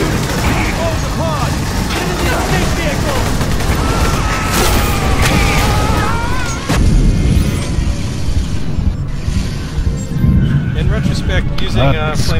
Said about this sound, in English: Flamethrower on exploding barrels was a bad idea